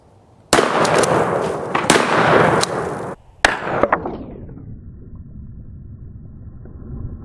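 Shotgun fires Operator buckshot rounds at 1400 feet per second outdoors: a few sharp, loud blasts with long booming decays and echoes, the first at about half a second and another after a three-second pause, then a low rumbling tail.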